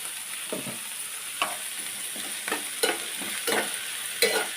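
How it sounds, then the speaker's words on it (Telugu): Onions with a little salt frying in a pan, a steady soft sizzle broken by several distinct stirring scrapes at irregular intervals, close and without talk. "ఎప్పుడులాగే కొంచెం ఉప్పు వేద్దాం, ఉల్లిపాయలు మగ్గుతాయి."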